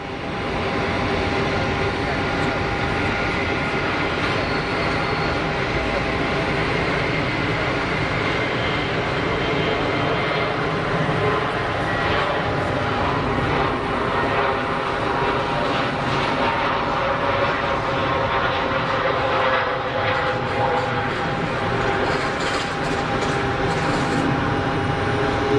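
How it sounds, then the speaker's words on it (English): A Middle East Airlines Airbus Neo jet rolls for takeoff at Geneva Airport, its engines a loud, steady broadband roar that holds throughout without pause, with no voices over it. "MEA Neo is rolling."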